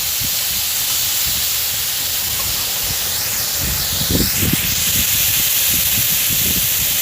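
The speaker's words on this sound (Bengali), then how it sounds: "লবণ আর হলুদ দিয়ে হালকা করে আমি ভেজে নেব গ্যাসটা সিলিংয়ে দিয়ে। এটা আমি ঢাকনা দিয়ে দিয়ে ভাজবো।" Katla fish seasoned with salt and turmeric fries under a lid, making a loud, steady hiss with a few soft bumps and rattles mixed in.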